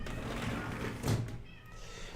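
A pet cat meows for attention, a drawn-out cry rising near the middle of the clip over a steady background hum, fairly close by.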